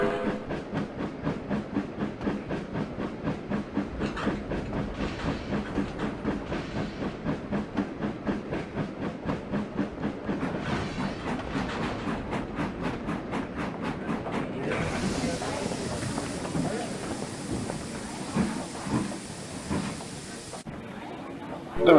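A steam train in the game Trainz departing a station, chuffing steadily with rhythmic exhaust beats, joined later by a loud hiss of escaping steam, mechanical and game-like.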